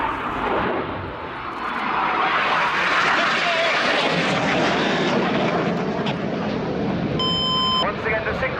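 RAF Red Arrows BAE Hawk T1 jets roar through an air display at RIAT 2017, a loud sustained engine rush swelling and fading overhead while a commentator talks over it, with a brief electronic beep near the end.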